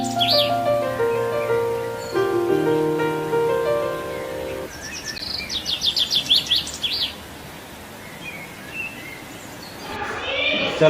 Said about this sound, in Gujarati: સરસ મજાની નાનાની નાની ચકલીઓ કેટલું કચરું પાડે માળો રોકે ચી ચી ચી ચી